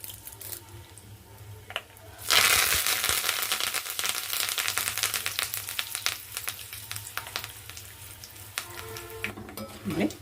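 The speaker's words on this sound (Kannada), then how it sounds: "ಇಲ್ಲೇ 2 ಎಸಳು ಕರಿಬೇವು ಹಾಕ್ಲಿಕ್ಕೆ ನೋಡ್ರಿ." Curry leaves and split urad and chana dal spit and crackle sharply in hot oil as they go into the pan, a loud burst of sizzling that settles into steady frying with a few stirring scrapes.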